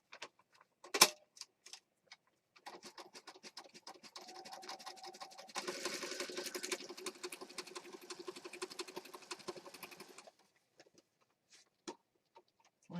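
A sewing machine stitches through a mixed media junk journal with paper, chipboard and ribbon, giving a fast, steady run of close ticking stitches for several seconds, with quiet handling clicks before and after.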